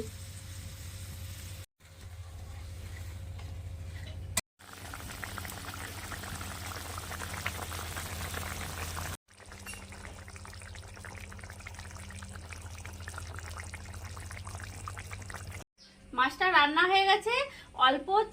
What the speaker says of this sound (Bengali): মাছগুলো দিয়ে কষানো হয়ে গেছে এবারে জল দিয়ে দিচ্ছি